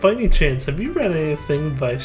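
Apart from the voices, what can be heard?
None of the usual background noises is heard.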